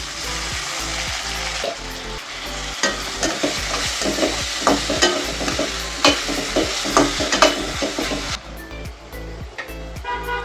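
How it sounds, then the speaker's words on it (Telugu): Soaked moong dal is added to a pan with ginger-garlic paste for a ridge gourd curry, then fried with a loud, close, continuous sizzle under repeated scraping stirs, the hiss dropping off near the end; no talk. "దీంట్లోనే మనం ఏదైతే నానబెట్టుకున్నామో పెసరపప్పు కూడా యాడ్ చేసేయాలి"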